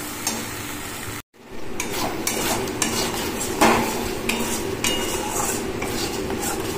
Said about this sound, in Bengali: গ্যাস কমিয়ে এবার খুব সুন্দরভাবে এটাকে কষাতে থাকবো।